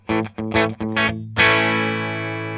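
A few short plucked guitar notes and chords through a Crazy Tube Circuits Splash MK 3 reverb pedal's dry signal, then one chord left ringing and slowly fading, played clean with a slightly gritty edge.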